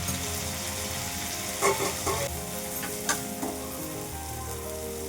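Tomato and onion fry in a pan, a steady close sizzle that runs throughout, with a few brief stirring scrapes and clinks around the middle.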